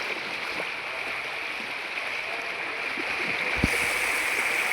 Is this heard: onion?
no